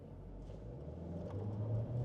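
An MG Cyberster sports car pulling away from standstill in a 0-60 run, its engine and road rumble building steadily and growing louder toward the end, heard from inside the cabin with no talk.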